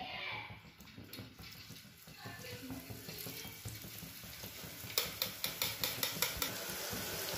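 Batter frying in hot oil in a home kitchen, a steady faint sizzle and bubbling with a run of quick light taps near the end.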